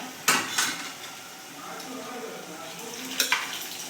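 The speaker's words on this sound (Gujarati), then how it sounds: "હવે આપણે નાખીશું તુવેરો." Pigeon peas are tipped into a hot pan of spiced oil for tuver thotha, giving a few sharp clattering bursts and a steady sizzle under stirring, with a spoon scraping the pan.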